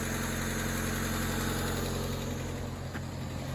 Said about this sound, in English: Coming from this valve cover. It's just a little tapping. We got a valve that's just a little bit bent.